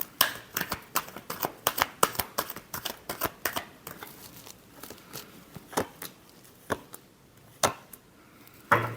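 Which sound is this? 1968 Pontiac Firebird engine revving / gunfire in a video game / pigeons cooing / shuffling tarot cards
shuffling tarot cards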